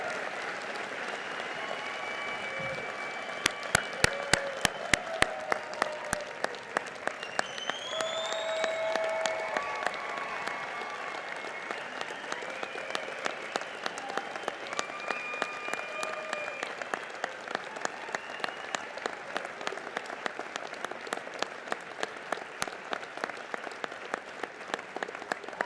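Sustained collective applause from a large audience at a School of Medicine & Health Sciences degrees ceremony, dense steady clapping that swells after a few seconds and continues for over twenty seconds, with a faint voice or two beneath it.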